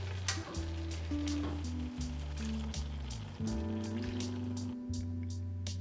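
Lamb chops go into a hot pan and sizzle steadily, a continuous frying hiss with a few clatters as the meat is moved, under a low hum.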